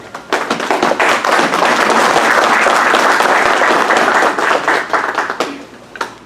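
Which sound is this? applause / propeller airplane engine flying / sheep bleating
applause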